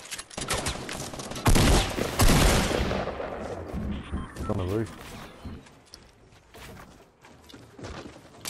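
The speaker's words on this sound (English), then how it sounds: "there's people on the hill shooting at us" Fortnite gunfire from players on a hill, several rapid bursts and scattered single shots at middle distance, loudest early and thinning out, with voices talking over parts of it.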